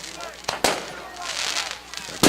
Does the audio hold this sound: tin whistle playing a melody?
no